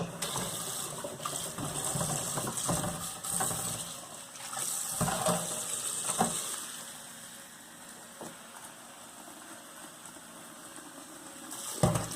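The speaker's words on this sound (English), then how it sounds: "It's best to rinse all your vegetables and fruits 3 times." Vegetables and fruits being rinsed in water at a kitchen sink, a soft splashing and gushing with scattered clinks and handling noises, fairly quiet and close.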